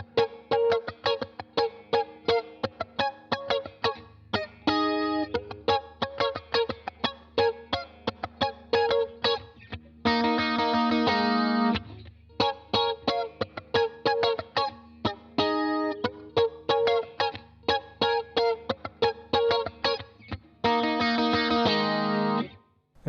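Electric guitar with chorus and distortion effects plays a part from a song, with rhythmic choppy muted strums and short bursts of sustained ringing chords, steady and mid-loud throughout with no voices.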